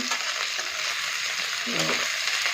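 Sliced onions frying in oil in a pan for a fish-head and cabbage curry, a steady broadband sizzle throughout with a few faint clinks of stirring, no voices.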